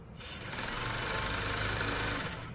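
A sewing machine stitches pressed trouser fabric for a box-pleat trouser, giving a steady continuous mechanical whir with fine rattling that runs for a couple of seconds, close and moderately loud, with no talking.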